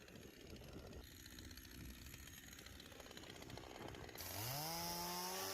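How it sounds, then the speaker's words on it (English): Chainsaw cutting a dead tree into firewood: a low rattling idle chatters for several seconds, then the engine revs up sharply into a loud, rising whine near the end. "I'm going to be using a chainsaw"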